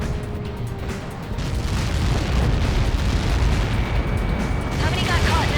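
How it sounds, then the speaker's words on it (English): Missile impact explosion in Ace Combat 7: a massive, sustained roaring blast that swells after the first second and rumbles loudly and evenly to the end. "How many got caught in that explosion?"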